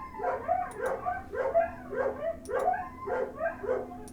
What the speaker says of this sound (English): What is wrong with my dogs?